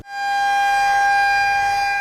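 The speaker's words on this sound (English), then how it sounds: "the noise of the weather siren is anything but unfamiliar" A loud, steady warning siren wails outdoors, its sustained tone holding strong and unbroken with no voices around it.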